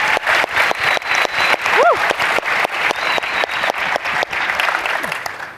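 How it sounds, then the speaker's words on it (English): Keynote audience applauding after a speaker shares a personal story on stage, sustained dense clapping from a large crowd with a few whoops rising above it. "Another round of applause"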